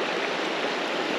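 Mountain creek water of the West Fork Horsehead Creek flowing steadily, a close, dense broadband rush with no pauses and no voices.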